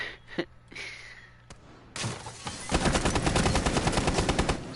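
Rapid automatic gunfire spraying through a window in a competitive shooter match, a dense steady burst of close, loud shots after a few isolated earlier cracks.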